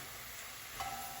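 Bitter gourd pieces fry in a pan for a Telangana-style onion-chili fry, giving a faint, steady sizzle with a slight brief rise near the end, no talk.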